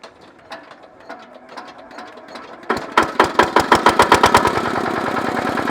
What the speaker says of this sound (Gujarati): ડીઝલ એન્જિનને સ્ટાર્ટ કરવું બહુ અઘરું છે હાવ ઇઝી છે